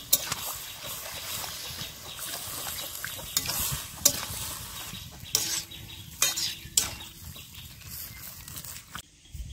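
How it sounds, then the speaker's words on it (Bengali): Spiced water hits a hot pan of koi fish and sizzles, with spoon stirring and occasional sharp clinks of utensil against metal, fairly close and alone. "মশলার জল দিছি"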